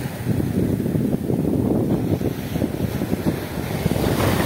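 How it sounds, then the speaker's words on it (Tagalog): Big ocean waves pound a small boat at sea, a constant loud rumbling wash with heavy wind buffeting the microphone throughout. "Malaki ang alon mga master"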